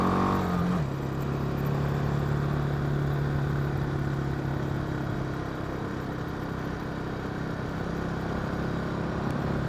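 BMW G310GS single-cylinder adventure motorcycle engine running steadily while riding near the shore at high tide, a loud continuous mid-pitched drone with an engine note that settles after a brief rise at the start, no talk.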